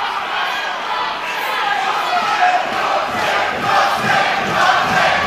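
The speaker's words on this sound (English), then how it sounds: "Crowd screaming." A loud, roaring fight crowd yelling and screaming continuously, a dense wall of voices that swells slightly toward the end.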